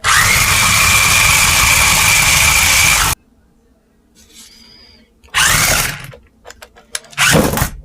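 An SGILE Atom Max RC stunt car's electric motor whines loudly at full speed on a small table, cuts off, then revs again in two short, sharp bursts with quiet gaps between.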